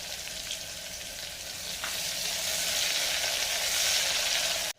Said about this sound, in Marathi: आता फोडणी खमंग झालेली आहे